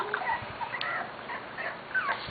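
A Corgi dog whimpers and whines in short, high-pitched, close bursts, repeated several times over a couple of seconds.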